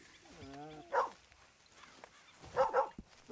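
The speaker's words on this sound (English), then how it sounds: "We have a dog now, what?" Dog barking in the Red Dead Redemption 2 video game, a few quiet yips and barks with a whining tone, heard among bursts of soft nearby speech.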